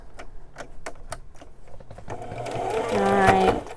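A sewing machine stitches a jeans hem, with a few separate clacks at first that build into a fast, steady whirring run near the end.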